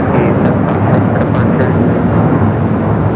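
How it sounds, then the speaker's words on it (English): A United Airlines Boeing 757-300 takes off at LAX, a steady, loud, broadband jet roar filling the air without letup. "This is United Airlines 1069 taking off to Chicago on the 757-300."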